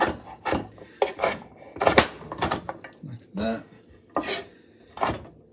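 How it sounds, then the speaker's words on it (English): A knife chops ingredients for a curry sauce on a board, a series of sharp close knocks in an uneven rhythm, with a person talking between the cuts. "then we just chop it up quite crudely"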